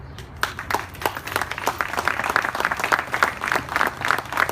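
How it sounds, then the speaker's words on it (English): An audience at a downtown press conference applauds as the mayor is welcomed, a close, lively burst of many hands clapping that holds steady throughout. "Any applause I get lately is good, so I appreciate that very much"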